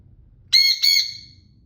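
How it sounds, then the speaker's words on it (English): A pet bird out of its cage gives two loud, harsh squawks in quick succession, close by, fading out over the next half second against a quiet room. "What are you squawking at?"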